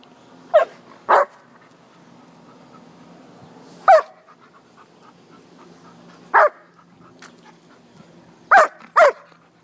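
Dog barking in short sharp bursts, five or six barks spread across the clip with quiet panting between, close by, outdoors in a backyard, with a poodle and shepherd playing.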